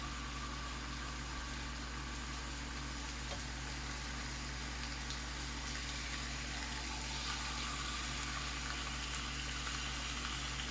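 Food frying in a pan after being flipped so one side cooks, a low, steady, continuous sizzle with a constant hum beneath, fairly faint and without talk.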